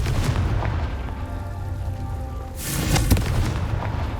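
A Confringo fire spell blasts in Hogwarts Legacy, a deep booming explosion with a rumbling tail, then a second sharper burst with crackling debris about halfway through, loud with no talk over it.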